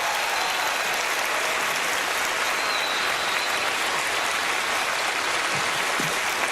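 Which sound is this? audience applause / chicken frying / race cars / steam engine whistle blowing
audience applause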